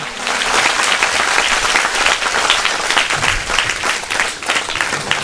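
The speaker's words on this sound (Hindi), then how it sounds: "ताली बजाकर परमेश्वर को धन्यवाद देंगे हम।" A church congregation claps steadily through a worship service, giving thanks to God; dense, continuous applause from many hands fills the room at close range without a break.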